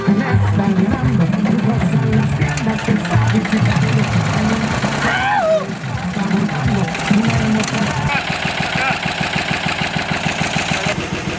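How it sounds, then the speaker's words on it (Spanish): A loud tractor engine idles steadily while warming up, with a low rumbling chug throughout, joined by clanking and other noise, with no pause, on a ranch. "Ya tenemos el tractor calentando."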